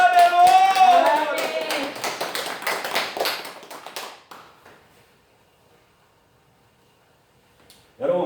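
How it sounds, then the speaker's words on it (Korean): A church congregation claps during a Korean worship service, with many hands in quick rhythmic clapping under a voice at first. The clapping thins and fades to near silence, then a voice returns at the very end. "하나님께 박수 영광."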